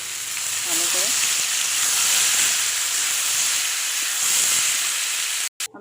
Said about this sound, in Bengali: এবার দিয়ে দিলাম আমলকিটা, একটু নাড়াচাড়া করে নিলাম ভালো করে।